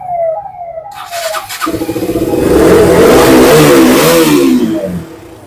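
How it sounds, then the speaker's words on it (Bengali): A 2015 KTM Duke 200 motorcycle at a Kolkata bike showroom starts up and revs hard, its engine note climbing and holding loud and close for several seconds before easing off. "গাড়িটা একবার সাউন্ডটা শুধু শুনে নাও।"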